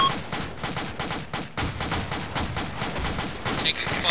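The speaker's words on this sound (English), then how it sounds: "Enemy fire. Fire. Under fire." Enemy gunfire in the military shooter United Operations, in the Battle of Wanat: rapid, loud bursts of automatic fire crack in a fast, dense rhythm with hardly a pause.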